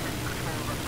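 A helicopter engine in Battlefield 4 on the Golmud Railway map roars as a loud, steady, close drone with a heavy low rumble, continuous throughout the short moment.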